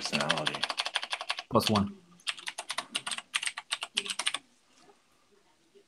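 Rapid keystrokes clatter on a computer keyboard in bursts during a tabletop role-playing session, with brief pauses and a loud thump between runs, and people talking faintly alongside.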